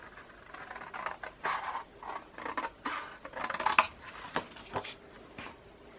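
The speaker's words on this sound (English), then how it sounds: "Let me just cut off those edges." Scissors trim uneven edges off scrap paper in a series of close, crisp snips and rustles, irregular in rhythm, with short pauses between cuts.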